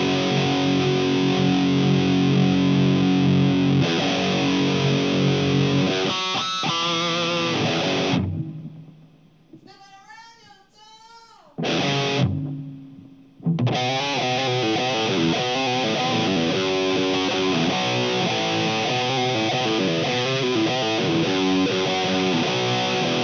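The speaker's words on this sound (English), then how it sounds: "Now that is a heavy ass rhythm tone, and that is the rhythm tone I will be using to record with it" A heavy distorted rhythm guitar tone tightened with a Tube Screamer chugs loudly in sustained riffs, broken by a short quiet gap with a few squealing bent notes before the heavy chugging resumes.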